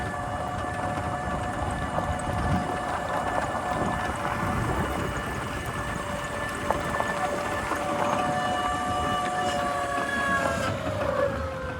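An EGO Power+ T6 electric riding lawn mower drives at full throttle, its motor giving off a steady whine with high tonal hum that stays close and even throughout, with no talking.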